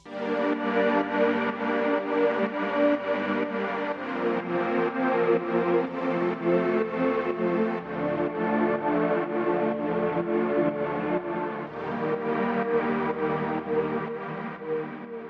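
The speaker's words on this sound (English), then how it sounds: "There are some new synths which are playing the chords," Layered synth chords from the drop of a song, a dense sustained pad with distortion and echo effects, playing steadily and loudly alone with gently pulsing sidechained swells.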